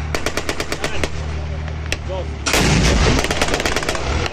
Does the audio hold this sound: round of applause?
no